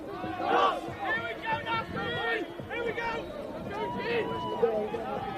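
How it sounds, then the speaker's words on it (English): Spectators at a BUCS men's lacrosse championship final between Nottingham and Durham chant on the far side of the pitch, sounding distant and mixed into a steady crowd hubbub with voices rising and falling. "Some chanting from the crowd on the far side."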